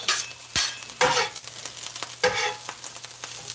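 Sweet chili pork fried rice is stirred and tossed in a hot pan, with loud spatula scrapes and clanks over a steady sizzle, close and busy.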